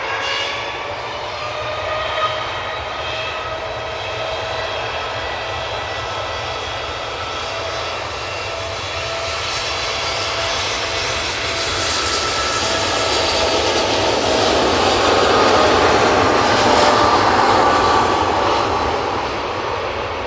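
An airliner taking off at Manchester Airport, a loud, sustained jet engine roar with whining tones that builds and swells toward the end, heard from a distance with no talking.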